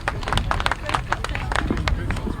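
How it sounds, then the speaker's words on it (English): Crowd clapping and applauding at a grasstrack motorcycle race meeting, a steady spread of claps from a nearby audience lasting throughout, with background chatter and speech mixed in. "Give a round of applause"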